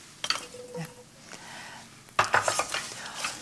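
Leeks, carrots and potatoes tumble into a pot and are stirred, with clattering knocks of a utensil against the pot and a louder burst of scraping near the end, and faint talk in the background.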